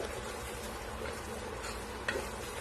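Tomato masala ground with chili powder sautés in oil for a chapati gravy, giving a steady, fairly faint sizzle with soft stirring scrapes throughout and one brief sharper clink near the end.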